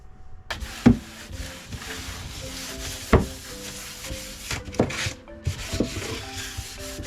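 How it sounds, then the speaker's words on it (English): Sandpaper rubs across worn wooden trim aboard a small sailboat, a dry scraping texture broken by a few sharper knocks and scuffs, close and moderately quiet with no talking. "Prepping it with sandpaper first."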